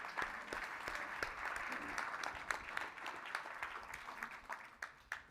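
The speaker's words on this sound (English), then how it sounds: "can you please give yourselves a round of applause as we come to the end?" Plenary session attendees applauding at the close of a meeting, a sustained crowd of clapping hands with individual sharp claps standing out, steady and moderately distant, with some murmured voices underneath.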